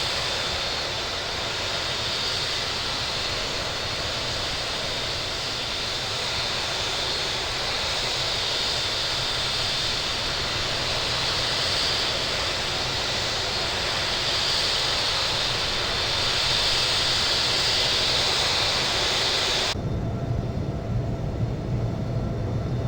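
A Southwest Boeing 737 MAX 8 taking off from JFK, loud continuous jet engine roar heard from the cabin, a steady broad rush holding level until it cuts off abruptly near the end.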